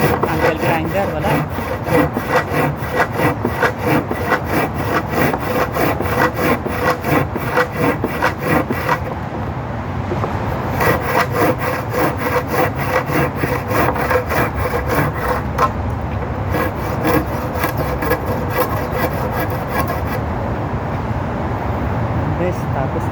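A hand saw cuts through a wooden fascia board in loud, close, rapid back-and-forth strokes that continue steadily, with short pauses between bursts.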